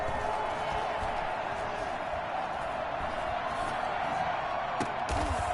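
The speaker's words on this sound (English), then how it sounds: "The crowd getting into it as we come up on a big 3rd down." A stadium crowd at a Colts football game roars steadily ahead of a big third down. The noise stays continuous underneath a commentator's play-by-play.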